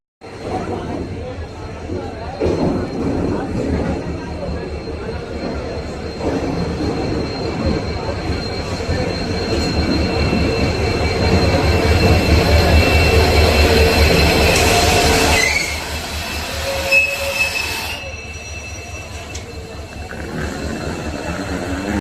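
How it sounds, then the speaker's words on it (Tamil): The Tiruchirappalli Express diesel train rolls into a platform with a loud rumble and rhythmic wheel clatter, brakes squealing as it slows to a stop, then quieter idling noise afterward. "நான் பார்த்து ட்ரெயின் வந்து இங்கே நின்றுச்சுங்க"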